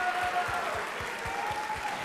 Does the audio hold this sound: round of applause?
yes